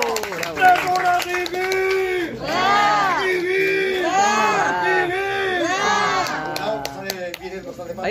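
Applause and cheering at a baby shower, a crowd clapping under loud sung or chanted voices with whoops, dense and close throughout.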